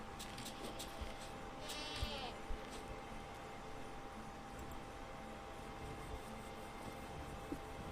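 Goats bleat in the survival game Wild Terra II, a few short bleats standing out over a steady hum of ambient game noise with sparse clicks.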